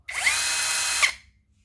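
A Zhipu cordless electric drill runs at steady high speed for about a second, loud and close, then winds down. There is no talk over it.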